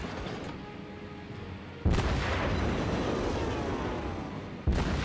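Warship guns shell a target in the naval video game Naval Command, two heavy booms about three seconds apart rising out of a continuous, dense roar of battle noise.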